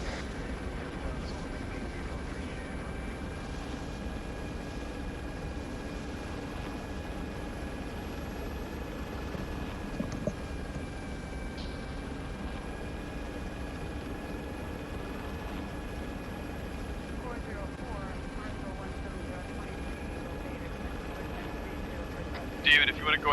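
Helicopter flying in the Arma 3 video game, a steady rotor and engine drone holding throughout at moderate level, with a few brief clicks near the end and people talking over it.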